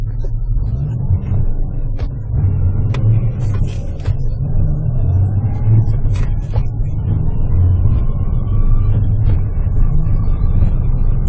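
A 4x4 vehicle's engine in four-low first gear, clutch fully released, keeps pulling at a steady low rumble that stays loud and continuous throughout, with faint rattles and clunks from the cab.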